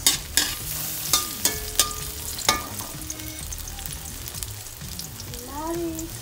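Tomatoes sizzle in a hot pan while a utensil stirs and scrapes them, sharp clinks and scraping strokes landing irregularly over a steady frying hiss, with sardines and Baguio beans cooking alongside.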